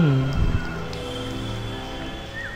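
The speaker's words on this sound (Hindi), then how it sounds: "बारिश।" Steady rain in the video game Sky: Children of the Light, a soft continuous patter with a low rumble at the start, holding at an even level throughout.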